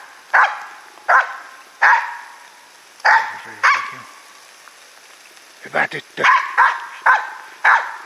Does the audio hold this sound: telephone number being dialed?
no